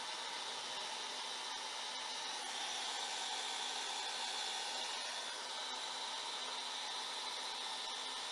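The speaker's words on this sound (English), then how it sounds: "Blow it into the ink and then blow it out." Air is blown onto alcohol ink on mineral paper, making a steady, faint, breathy hiss with no pauses.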